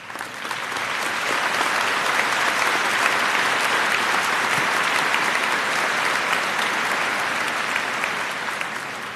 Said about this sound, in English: join me in honoring him with a round of applause